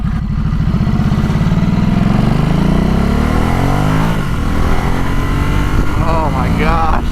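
A 2018 Ducati SuperSport motorcycle engine drones loudly while riding, its pitch climbing under acceleration and then shifting through gears, with the rider's voice mixed in over the engine and wind.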